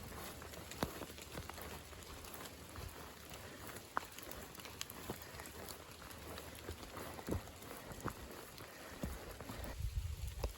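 Water drips from trees onto a wet mountain trail after rain, scattered faint taps and patters at irregular intervals over a quiet, soft background hiss, with no talking.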